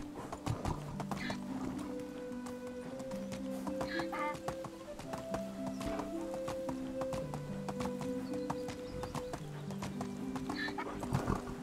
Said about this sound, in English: I think I heard the donkey make a noise that made me think there was still wolves following me.